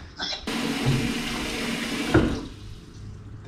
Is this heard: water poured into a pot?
yes